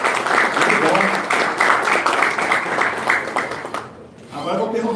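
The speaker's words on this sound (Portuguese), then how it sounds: "Palmas aí, pessoal de Brasília, chegando cedo aí." Applause from attendees at a public hearing in Brasília, a wash of clapping from a roomful of people that tapers off near the end, with a voice speaking over it.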